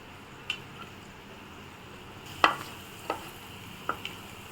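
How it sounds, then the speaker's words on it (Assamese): Finely chopped garlic frying in oil in a wok (kadai) for vegetable Manchurian: a faint, steady sizzle broken by a few sharp taps from a spatula, quiet and with no talking. "এতিয়া নহৰুৰ গোন্ধ যোৱালৈকে মই অকণমান সময় নহৰুখিনি ভাজিম"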